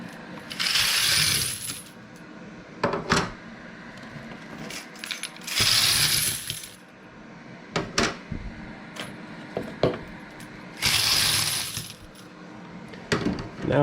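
Wet-tumbled brass cartridge cases poured out of a tumbler drum section in three bursts, each a loud, dense metallic jangle and clatter lasting about a second, followed by scattered clinks and knocks of handling in between.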